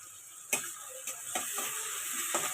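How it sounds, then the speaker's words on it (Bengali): Onions frying with garlic paste in a pan while being stirred, giving a steady soft sizzle with a few sharp spoon clicks against the metal and no voices. "ভালো করে এবার এটাকে নাড়াচাড়া করব।"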